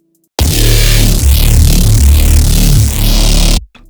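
A heavy, thick synth bass roars for about three seconds, loud and distorted with sweeping, wobbling filter movement, played alone before cutting off abruptly.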